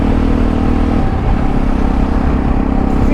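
A BMW 650 GS motorcycle engine runs steadily up close, loud and continuous with an even, low throbbing note and no speech.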